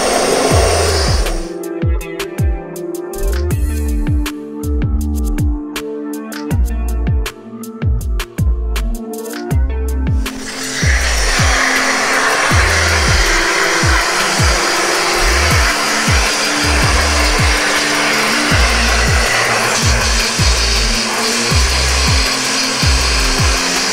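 Sandblasting rust and paint off a farm trailer, a loud continuous hissing blast that steadies into a dense roar after about ten seconds, with rhythmic thumping from machinery underneath and no talking.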